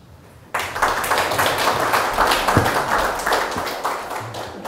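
Audience applause closing a lecture on the Jeju language at a Jeju studies conference: a sudden burst of many hands clapping that stays loud and sustained after a quiet start.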